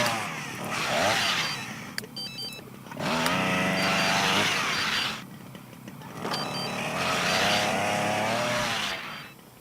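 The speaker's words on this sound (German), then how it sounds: "Die Rückkehr des Kettensägen-Massakers" Chainsaw revving in The Sims 3, three long buzzing bursts with rising and falling pitch separated by short lulls, loud and close with no talk.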